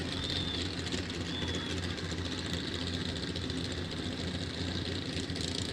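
A big-tire small-block mini pulling vehicle at a tractor pull event revs under load. It gives a continuous, fairly distant engine roar that holds steady throughout, without clear voices.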